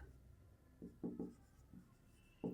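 Pen or marker writing out a Class 7 maths solution on the area of a parallelogram, a few short scratchy strokes in bursts with pauses between, close and fairly quiet.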